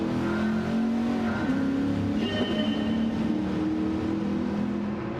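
A racing car engine drones and revs continuously at moderate volume, shifting pitch as it accelerates, with no voices.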